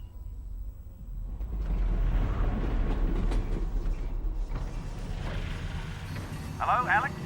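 Train running in Half-Life: Alyx, a low rumbling rail roll with clanks and knocks that swells and stays steady, fairly close, followed by a brief voice near the end.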